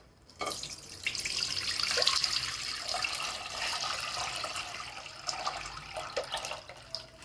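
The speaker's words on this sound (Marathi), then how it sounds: "दूध ओतून घ्यायचं." Milk poured into a wide, heavy-bottomed pan for kulfi, a steady liquid splash and gurgle that starts abruptly and runs on continuously up close, with no talking.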